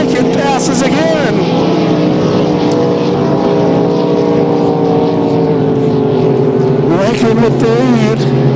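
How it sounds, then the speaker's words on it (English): Grand National and big-block racing powerboats roar past at an annual boat race, a loud, sustained engine drone with shifting pitch that fills the whole stretch, while an announcer talks over it. "Big Block, what a great race. Rankin passes again."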